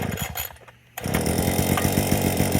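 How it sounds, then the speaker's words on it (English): Gas engine of a Proyama multi tool firing up without priming or choke: a brief quiet stretch, then the engine catches near one second and idles steadily and loudly to the end, with no talking. "I'm gonna see if it'll fire up without priming and choking"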